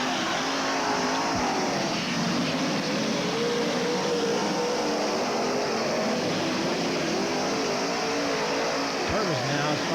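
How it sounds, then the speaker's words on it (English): Dirt track race cars roar around a speedway at the 1985 Kenny Simpson Memorial race, engines droning loudly and continuously with revving surges, while an announcer talks over the noise. "Billy Moyer continues to lead in car 21"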